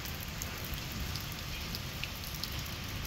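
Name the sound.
rain falling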